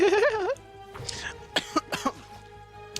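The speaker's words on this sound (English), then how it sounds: "Don't cough like that." A short vocal sound followed by several quick, harsh coughs close to the microphone, then quiet.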